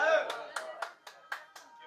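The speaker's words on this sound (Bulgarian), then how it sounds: "Не пляскайте, Боби не е платил за аплодисменти." A small bar audience at a comedy show gives about half a dozen separate, unhurried handclaps after a short voice. The claps are close and clear, and the room is otherwise quiet.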